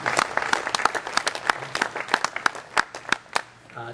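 A small audience claps in short, uneven bursts at an event, the applause close and fairly light, with scattered individual claps standing out and a faint murmur of voices underneath.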